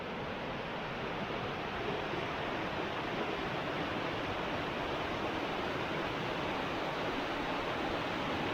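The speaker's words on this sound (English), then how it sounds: "This is more like rushing rapids." Rapids rushing along a river on the Gatlinburg Trail in the Great Smoky Mountains area make a steady, loud, broadband roar that holds unbroken throughout, with no voices over it.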